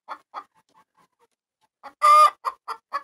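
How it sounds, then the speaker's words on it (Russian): Chickens on a small farm with chicks and hens: short close clucks in a broken rhythm, then one loud, drawn-out crow from a rooster, followed by several more quick clucks. "А ты там что кукарекаешь?"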